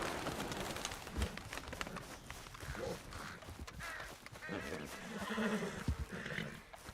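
A horse in a video game whinnies and snorts amid busy game sounds and hoofbeats, with a voice talking faintly underneath.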